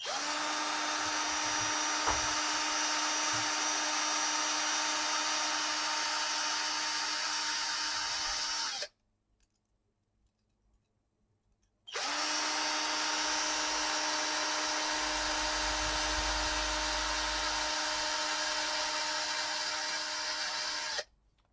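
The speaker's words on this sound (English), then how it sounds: "So here you take this M222 screws, and with screwdriver it's pretty fast" An electric screwdriver drives small M2 screws into a Titanic scale model kit during assembly, a steady high whirring that runs for about nine seconds, stops briefly, then resumes for another long, even stretch at close range.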